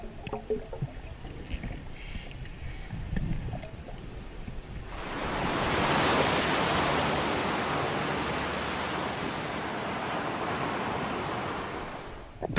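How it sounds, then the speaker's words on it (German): Rough, churning sea surf, a loud sustained wash of breaking waves that swells in about a third of the way through after quieter sloshing water at the start. "Das Meer ist aufgewühlt, Sicht nur eine Armlänge weit."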